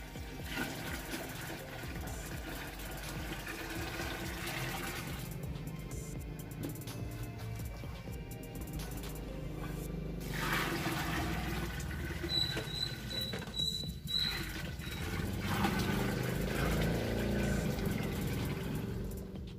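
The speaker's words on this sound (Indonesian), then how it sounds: "Kemudian yang harus kita lakukan lagi selanjutnya adalah langsung diisi air." Water pours into a container for making liquid goat-manure fertilizer, a steady rushing splash that grows fuller partway through, with some creaks and handling noise and no talk.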